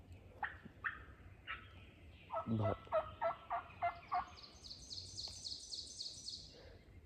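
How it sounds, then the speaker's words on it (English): Wild turkey gobbling during a turkey hunt. Several repeated gobble bursts in a quick rattling series, moderately distant in open woods, along with fainter bird calls and a brief spoken word. "he's still gobbling"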